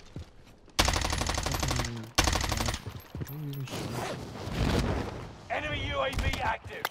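Bursts of automatic gunfire in a video game, with two loud rapid strings of shots up close, then scattered firing and other game effects, and a player talking in between.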